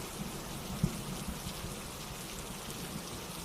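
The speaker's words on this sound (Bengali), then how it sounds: "এত তুমুল বৃষ্টি আমি কোনোদিন দেখিনি" Heavy rain falls on a roof as a soft, steady hiss of patter, with an occasional louder drop striking close by.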